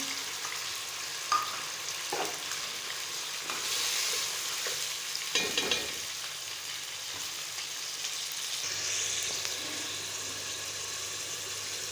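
Tomato puree frying in a pan for chicken pulao, giving a steady close sizzle with occasional stirring scrapes and clatters over roughly twelve seconds.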